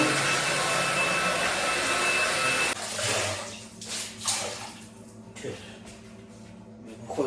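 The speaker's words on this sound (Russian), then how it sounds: "Пылесос, мой пылесос." A vacuum cleaner roars loudly for a few seconds, then cuts off, leaving quieter clunks, rustling and movement noises.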